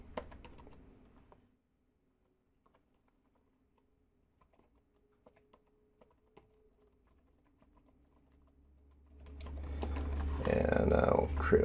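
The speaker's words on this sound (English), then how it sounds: "I'm going to put my first name in, last name, put email" A name and email are entered on a computer keyboard as sparse, quiet keystroke clicks spread across a hushed stretch, framed by louder background noise at the start and a rising rush at the end.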